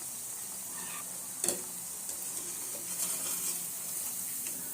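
Omapodi, a plain sev batter, frying in hot oil: a steady, close sizzling hiss holds throughout, with a few brief louder crackles and bubbling pops and no talking.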